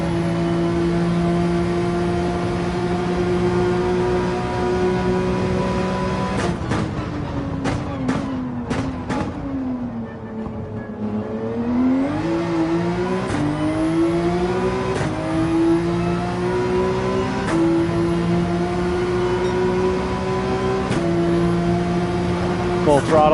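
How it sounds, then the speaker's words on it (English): A race car engine held at full throttle in Gran Turismo 7, a steady loud buzzing drone with strong harmonics, briefly dipping and shifting pitch through gear changes and lift-offs before climbing again, with a voice talking over it throughout. "Full throttle through this section."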